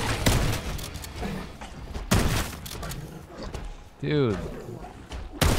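Shotgun blasts in Call of Duty Black Ops 6 Zombies on the Liberty Falls map: several loud booming shots at irregular intervals, mixed with game noise and someone talking over the action.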